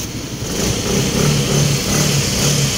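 A used Yamaha Mio Gear scooter engine runs close by at a steady, loud hum that swells slightly after the first half second and holds with a faint throb.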